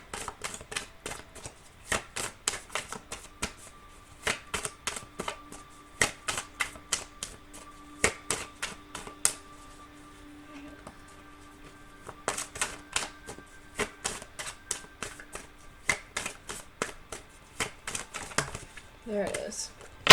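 Tarot cards are shuffled in quick bursts of crisp riffling clicks. They come in uneven runs with short pauses, fairly close and moderately quiet, with faint talk in the background.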